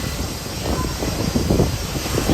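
Small jet airplane engines roaring close by at St. Maarten airport, a loud, rough, pulsing blast of engine noise and wind that swells slightly as it continues.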